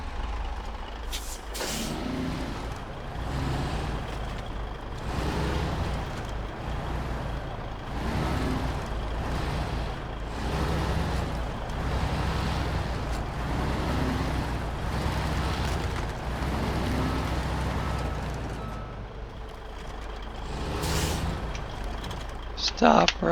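A heavy off-road truck in SnowRunner backs up, its diesel engine rumbling steadily, with air-brake hisses and clunks along the way, while a person talks over it throughout.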